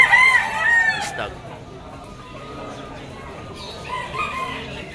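A young gamecock, a stag, crows loudly and close at the start, followed by quieter barnyard clucking and background noise.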